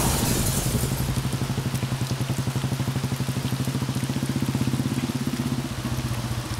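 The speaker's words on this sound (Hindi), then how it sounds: "कितनी बारिश आ रही है।" Heavy rain pours down in a continuous dense patter, loud and close, with a rapid pulsing texture throughout and no voices.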